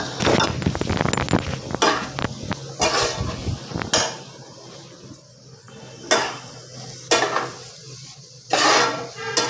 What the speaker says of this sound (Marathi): मोठा गॅस करूनच परतून घ्यायची ही भाजी.